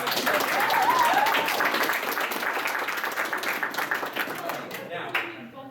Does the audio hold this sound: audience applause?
yes